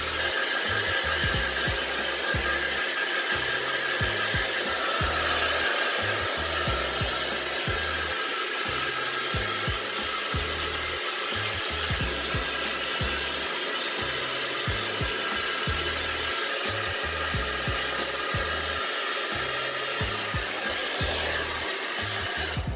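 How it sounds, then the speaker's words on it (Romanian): A handheld hair dryer blows steadily while drying hair, the side sections pushed toward the face; its continuous whooshing roar runs loud and close the whole time, with small flutters as the nozzle moves. "Apoi, cu ajutorul fenului, uscăm prima dată lateralele în direcția în care vrem să stea părul, adică spre față."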